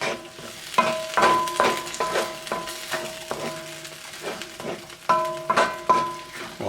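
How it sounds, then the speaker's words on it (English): A spoon scrapes through thickening mapo tofu sauce in a pan in repeated rhythmic strokes, close and clear, over a soft bubbling sizzle with no talking. "Stir it up, let it thicken up a little bit."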